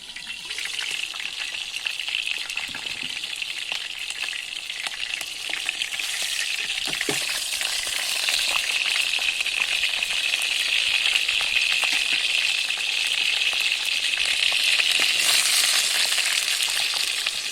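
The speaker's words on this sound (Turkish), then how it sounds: "Çıtır çıtır tenceremiz kavrulmaya başladı." Minced meat fries and crackles continuously in a pot over a wood fire outdoors, a dense close-up sizzle with occasional stirring clinks, growing slightly louder over time.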